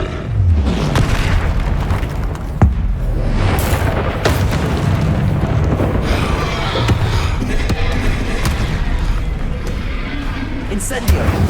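Confringo explosive spell blasts in Hogwarts Legacy, heavy booming bursts repeating through a busy stretch of combat sound, with character voices mixed in.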